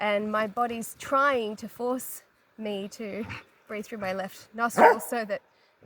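A dog barks and yips in short bursts close by, mixed in with a person talking steadily over it.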